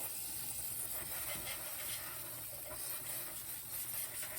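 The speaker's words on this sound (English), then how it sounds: "I'm using carbon choke cleaner just to clean this carburetor off a little bit" Carbon and choke cleaner sprays from an aerosol can onto a Snapper snow blower carburetor, a steady, quiet hiss lasting throughout.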